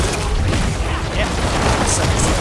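Dense, continuous explosion effects from necromancer skills in Diablo 4, where tendrils pull enemies together before they detonate, making a loud layered barrage of booms and bursts with no pauses.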